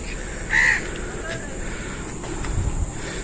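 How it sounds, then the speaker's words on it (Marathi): A single crow caws sharply early on, then a quieter call follows against a still, hushed outdoor background with faint low rustling, deep in dense forest on a hill fort trail. "फक्त रातखेड्यांचा आणि कावळ्यांचा आवाज येतोय बाकी शांतता आहे"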